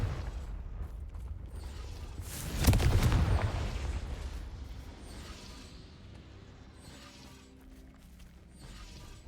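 A Confringo fire spell cast in the Hogwarts Legacy game lands as one loud, sharp burst near the three-second mark, then fades into a low rumbling tail with faint mechanical creaks.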